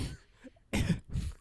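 A woman deliberately coughs on request, a short rough throat-clearing cough followed by two sharp, close coughs in quick succession.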